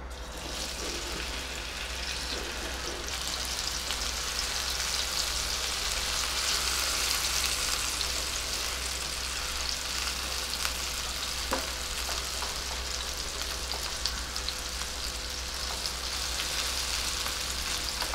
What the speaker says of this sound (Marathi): तर या आता तेलामध्ये आपण पहिल्यांदा ही भेंडी थोडीशी परतून घेणार आहोत